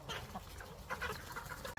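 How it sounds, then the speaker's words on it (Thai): Young roosters and hens on a farm cluck and call in a busy, continuous mix, fairly close and with no talking. "ผมก็ไก่กำลังเริ่มกินข้าวแล้วเดี๋ยวเขาจะเริ่มวิ่ง"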